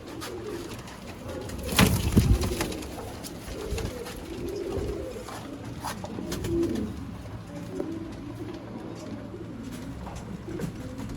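Ferozpuri banka pigeons coo softly in a low, repeated murmur, with a louder burst near the start and wing flutters and faint movement throughout, no one speaking.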